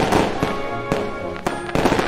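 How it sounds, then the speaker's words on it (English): Fireworks bursting outside during an American celebration, a series of sharp crackling pops and bangs in irregular clusters over a continuous static-like hiss, fairly loud and steady with no talking. "All those fireworks keep sounding like static."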